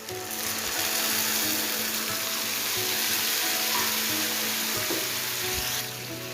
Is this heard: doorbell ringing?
no